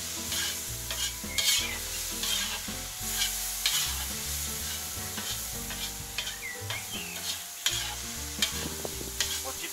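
Funchoza glass noodles with soy sauce stirred in a cauldron over a campfire: loud, repeated scraping strokes over a steady sizzle, with background music throughout.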